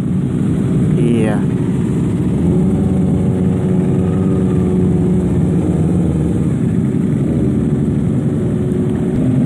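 Two-cylinder motorcycle engines rumble continuously on a Sunday group ride toward Kaliurang, a loud steady drone close by with one brief rising rev near the start, while people talk over it.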